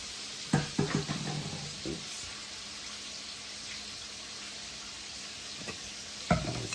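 A seasoned oil mixture of Maggi seasoning and olive oil is stirred in a pot for atteke, with short clustered scraping bursts, a faint steady sizzle between them, and another scrape near the end.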